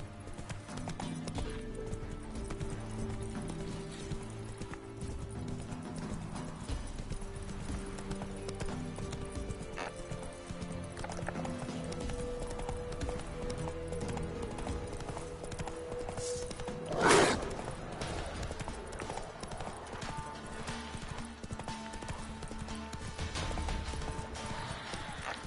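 Roach, the horse in The Witcher 3, gallops with steady hoofbeats in a continuous clip-clop rhythm. Game ambience and music play throughout, with one short louder crash partway through.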